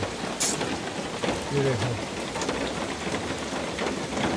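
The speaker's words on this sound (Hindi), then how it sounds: "खतरनाक बारिश लगी है।" Heavy rain pours steadily, a dense close hiss of drops on surfaces, while someone briefly speaks over it.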